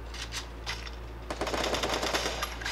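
Free Fire gunfire crackles as quick, sharp shots, a few scattered pops first and then a denser rapid burst, at moderate volume over a steady low hum.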